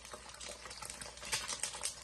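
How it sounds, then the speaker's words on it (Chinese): Steady crackling sizzle of eggs frying in hot oil, dense and continuous with small pops throughout, no voices. "我们要把鸡蛋煎至2面金黄"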